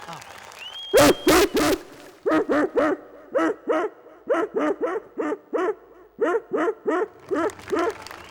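A person mimics a rich household's dog barking in a rapid series of about fifteen short, regular yaps, opened by a few sharp claps or knocks, at a Malayalam comedy stage show.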